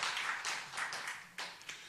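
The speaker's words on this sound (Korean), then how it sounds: "우리 한번 박수로 한번 좀 환영했으면 좋겠습니다" Church congregation clapping in welcome for a newcomer, a short burst of fairly quiet scattered handclaps from a group at moderate distance.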